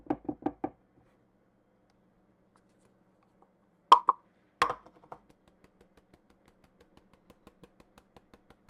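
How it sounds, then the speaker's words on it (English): Flour is sifted by hand in a home kitchen: a few quick knocks and taps on the sifter, then a soft, regular run of faint ticks as it is worked, with quiet pauses between. "That's another reason why I really want to sift first."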